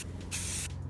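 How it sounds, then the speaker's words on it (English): A spray paint can sprays onto a thrifted chair being upcycled: one steady, close hiss lasting about a third of a second, set against a quiet room. "You're just going to spray evenly"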